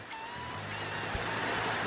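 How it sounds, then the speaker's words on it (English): Steady rain falling outside sounds like a soft, constant hiss at low level, unbroken and without voices. "Listen to that rain."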